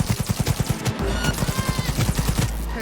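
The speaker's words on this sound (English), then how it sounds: "We haven't used an assault rifle yet. So let's do that." A smart-weapon assault rifle fires in the video game Cyberpunk 2077 as steady, rapid automatic bursts with an even rhythmic pulse, moderately loud throughout.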